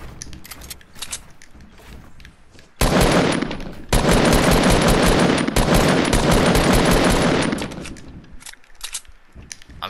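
Rapid automatic gunfire in a building-and-battle shooter video game, loud dense bursts lasting several seconds with a short gap, then fading out to quieter game sounds.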